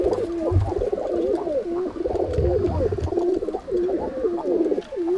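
Fancy pigeons from a prized bloodline coo steadily and close by, their throaty rolling calls repeating in overlapping waves for the whole stretch, with low rustling beneath.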